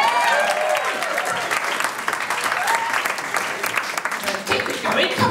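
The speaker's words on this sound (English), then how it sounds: "Can we give Martin a round of applause?" A comedy club audience breaks into applause, a dense wash of clapping that rises loud and stays steady, with scattered whoops and voices mixed in.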